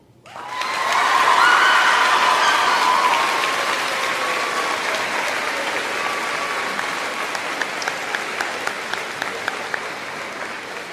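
Sustained applause from the audience at a middle school eighth grade moving-on ceremony, rising quickly to a dense, loud roar of clapping that gradually thins and fades over about ten seconds, with a few scattered cheers.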